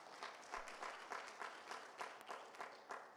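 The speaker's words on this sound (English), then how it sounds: "Now give the Lord a hand clap of praise" A church congregation gives a hand clap of praise during a Saturday evening service, rhythmic and fairly faint clapping in a steady beat, as if keeping time.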